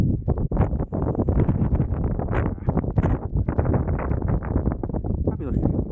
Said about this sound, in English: this wind is doing my head already